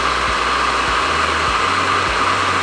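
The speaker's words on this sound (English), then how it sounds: "what you're going to want to do is use your heat gun" A heat gun blows steadily at close range to soften sealant around an edge, giving a constant airy roar with a low motor hum underneath and no talk.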